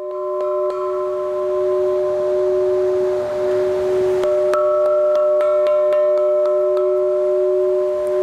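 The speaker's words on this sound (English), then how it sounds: "That's my doorbell." An electronic doorbell at the entrance of an underground home plays sustained ringing tones; a second chime starts partway through, loud and clear with no talk.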